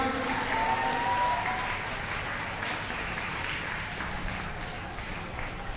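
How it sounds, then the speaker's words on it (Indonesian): Students at an Islamic junior high school (MTs Negeri 31 Jakarta) applaud during a Nuzulul Qur'an commemoration, with soft, steady clapping from a crowd that holds throughout at moderate distance. "Tepuk tangan buat kalian semua."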